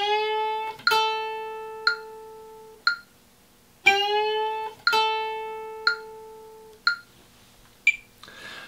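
A guitar bend played against a metronome, the sustained bent notes sliding upward while sharp high clicks tick steadily about once a second, close and clear with no talking.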